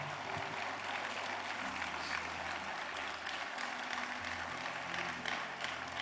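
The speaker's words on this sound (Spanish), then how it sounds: "Vamos a dar ese aplauso al Señor." A church congregation applauds during a Sunday service, a quiet, continuous wash of many hands clapping at once, with no voices over it.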